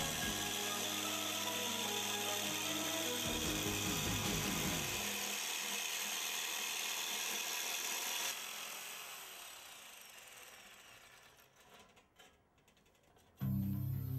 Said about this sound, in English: the Swiss Army jigsaw works really well. Cut through this metal really quickly.